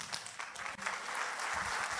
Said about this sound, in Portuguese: Pode aplaudir o Senhor mais forte, irmãos